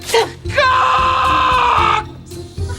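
A man screams as his chest hair is waxed off in a film scene: a short yelp, then one long, loud, strained scream lasting over a second before trailing off, followed by a brief groan.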